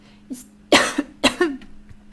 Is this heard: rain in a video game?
no